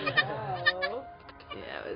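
A goat bleats several times at close range during a kidding, wavering cries coming in quick succession over a soft background.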